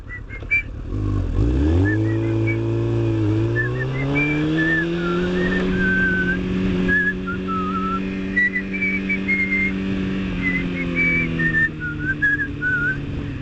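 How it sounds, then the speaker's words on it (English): Someone whistles the tune of The Saints Come Marching In, a clear solo melody carried steadily through the whole passage over a low droning hum, with no talking. "So I used to whistle The Saints Come Marching In."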